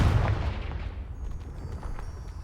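A Confringo fire spell goes off in the Hogwarts Legacy video game as one loud, booming blast up front, then a rumbling decay trails away over the next two seconds.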